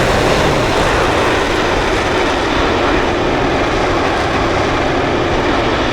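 A jet fighter's engine, a J-20 in a flight simulator game, roars steadily and loudly throughout during an airshow at Phnom Penh International Airport, with a continuous broadband rush and no talking.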